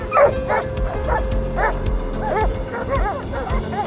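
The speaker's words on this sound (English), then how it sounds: "the dogs caught the scent and drove the hog out of hiding" Hunting dogs flushing a wild boar from cover give a run of sharp, repeated barks and yips, some overlapping, at moderate distance over rustling background noise.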